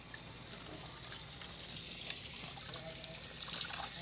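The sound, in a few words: water washing raw tuna jaw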